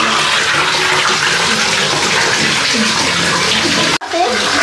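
Water splashing and pouring steadily while someone is bathed, loud and close, with a brief break near the end and faint voices underneath.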